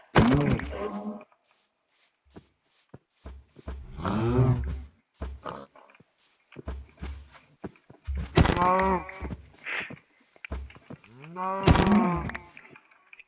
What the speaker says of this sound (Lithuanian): Tik man tų karvių reikia.